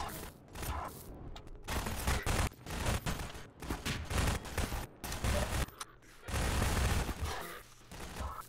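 Gunfire from Half-Life 2 weapons, repeated bursts and single shots in an irregular rhythm across the stretch, loud and close, with brief pauses between volleys.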